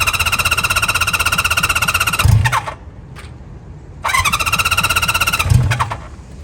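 A 1973 Honda CB350 Four motorcycle engine runs at a fast idle up close, a steady buzzing tone with a thump around two seconds in, then a brief lull before it picks back up for a second stretch.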